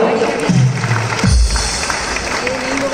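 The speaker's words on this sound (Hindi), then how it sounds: "जोरदार ताली बजाओ" Audience applause at a Jain initiation ceremony at Shri Sammed Shikharji, a dense clapping crowd heard loud and close throughout, with a brief voice and low rumble near the start.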